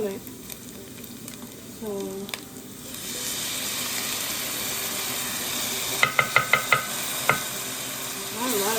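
Garlic hits a hot pan with a steady, close sizzle and frying hiss, with a few sharp clinks of a utensil against the pan midway and a brief spoken word at the start.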